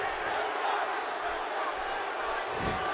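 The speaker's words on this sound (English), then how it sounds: "This crowd is just absolutely raucous." Arena crowd in the WWE 2K17 wrestling game roaring during a Raw match, a dense sustained wall of cheering and chanting that swells slightly near the end.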